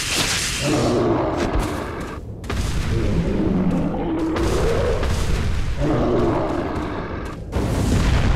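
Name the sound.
rifle gunshots in a video game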